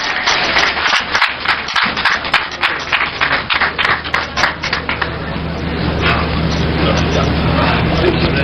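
Audience applause greeting Ghanaian president-elect John Dramani Mahama at a gathering with the religious community in Wa Central, a steady, dense clapping that carries on through the whole stretch with a few sharper claps standing out near the start.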